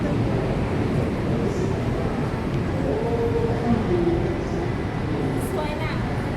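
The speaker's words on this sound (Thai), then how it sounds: "รถไฟมา" An electric train pulls into a Thai station with a steady rumbling roar and faint high squeals, heard over crowd noise while people talk close by.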